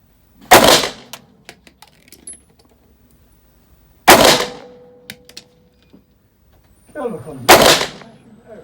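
Girsan MC 1911 SC 9 mm pistol fired while being zeroed, three loud, sharp shots spaced a few seconds apart, each with a ringing metallic tail and small clicks in between.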